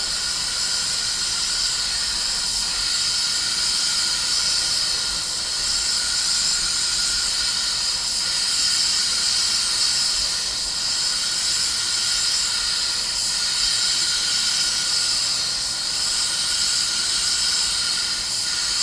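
A Welcome Carbonio 360 Light clear spray gun with a 1.2 tip and MP air cap lays down 2:1 clear coat on a car, a steady, close, unbroken hiss of atomizing air held loud for the whole stretch.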